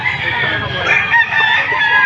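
Roosters crow and cluck nearby amid a noisy gathering of fowl at a chicken market in Lipa, Batangas, the calls overlapping in a continuous din.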